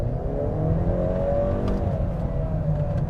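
Honda CR-V Hybrid accelerating at full throttle, a steady loud engine drone from inside the cabin with a tone that rises smoothly as speed builds, no talk.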